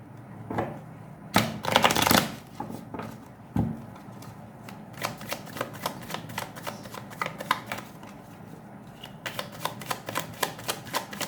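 Tarot cards are shuffled by hand in a quiet room, a loud riffling burst near the start followed by a long run of light rhythmic card slaps and taps, close and crisp.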